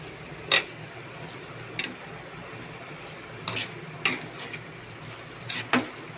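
A spoon stirs a sizzling tadka of spices through cooked dal in a pot, with a few sharp scrapes and clinks against the metal spread across a quiet background, close and moderately soft.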